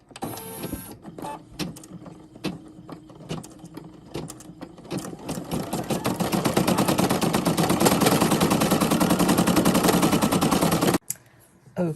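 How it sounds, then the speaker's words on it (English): A home embroidery machine stitches a berry design onto a flour sack towel, its rapid mechanical needle hammering steady and close, swelling louder and denser midway before stopping abruptly near the end. "Okay, that has finished stitching"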